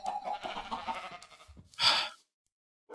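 A Minecraft sheep bleats once in a short, loud burst near the end, after a stretch of busy game noise, then silence.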